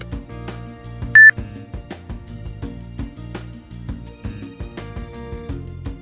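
A single short, high electronic beep from a Zoomax Panda video magnifier's magnification button sounds sharply once amid soft clicking and tapping noises, then the tapping continues on its own.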